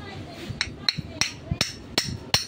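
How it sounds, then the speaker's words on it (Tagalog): Sharp hammer blows knock a shaft out of a Unitech table fan under repair, about seven metallic strikes in an uneven rhythm, close and clear with faint background noise. "kailangan nyo lang pukpukin ng martilyo"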